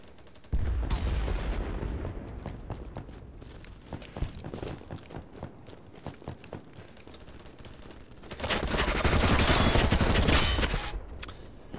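Gunfire in the online shooter BattleBit, with repeated sharp shots and bursts across a loud battle, ending in a dense, sustained volley of fire; no talking.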